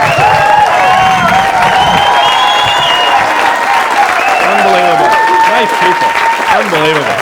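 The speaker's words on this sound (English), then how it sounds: "Please, a nice round of applause, Mr. John Groff." Loud, dense audience applause mixed with cheering and whoops greets a comedian taking the stage at a Boston Brookline cable comedy show, sustained steadily throughout at close range.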